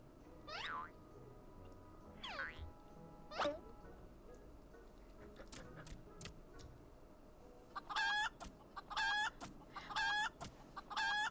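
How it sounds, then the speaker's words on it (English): A chicken in Final Fantasy XIV clucks and squawks in short separate calls, followed by a run of sharp, rapid clucking bursts, clear and close over a quiet background. "Why is the chicken the wisest one here?"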